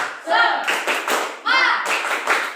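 Children in a classroom clap in rhythmic bursts for a spirit clap while chanting together, sharp grouped claps mixed with voices, near and loud.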